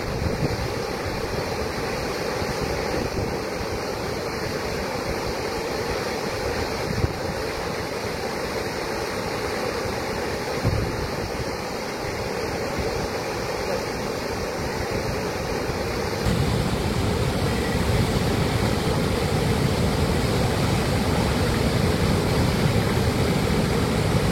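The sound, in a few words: water roaring from dam release at Maithon Dam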